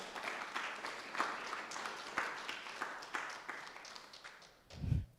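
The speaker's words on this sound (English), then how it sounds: "Let's give them a round of applause." An audience claps for a guide dog graduate and handler at a Guide Dogs for the Blind graduation, a patchy round of applause with scattered sharp claps that thins out, ending in a brief low thump.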